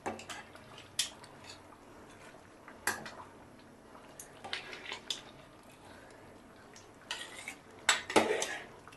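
A metal spoon scrapes and clanks against a cooking pot while spice tempering is mixed for egg khichuri, sharp irregular knocks over a low sizzle, close and fairly loud, with no talk.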